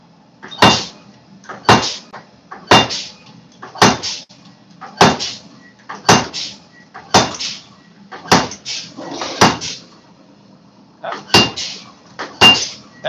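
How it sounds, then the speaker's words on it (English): A door in a hot workshop is shut again and again, about a dozen sharp wooden thumps and clacks at a steady, roughly one-second rhythm, close and fairly loud against a quiet background. "So that's why I keep going back and forth shutting the door."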